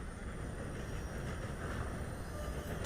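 A passing train in Red Dead Redemption 2 makes a loud, continuous rumble, steady and close, with no voices.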